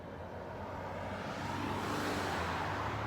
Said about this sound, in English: There's a car getting ready to pass by.